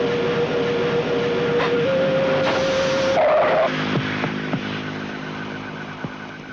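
Car skidding after a tyre blows out, a loud, sustained screech and engine whine over road noise that shifts pitch, then fades into a rumbling drift with intermittent thuds; no voices.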